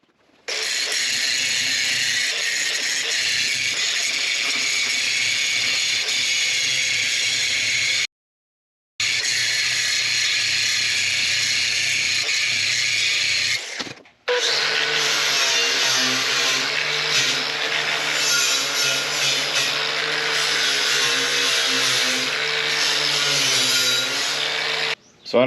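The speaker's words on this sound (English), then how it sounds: "I'm gonna grind off the edge I welded up here, just make that look really nice and smooth" Angle grinder smoothing a welded edge on a steel rock bucket for a Kubota B2601 tractor, a loud, continuous high whine in long passes, with one brief pause and a change in pitch partway through.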